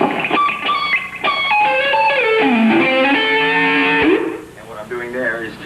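Distorted electric guitar plays a lick that slides through octave intervals, with sustained, gliding notes that bend up and down, loud and continuous before tapering off.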